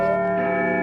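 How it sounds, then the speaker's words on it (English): A wall clock chimes in a quiet home, sounding as a sustained, ringing bell tone that holds steady and fairly loud throughout, with no voices. "Just then, the clock on the wall chimes."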